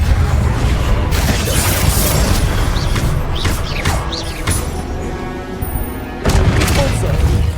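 Confringo fire-blast spell from the Hogwarts Legacy video game, several loud booming, crackling bursts in quick succession with brief pauses between them, over continuous game background.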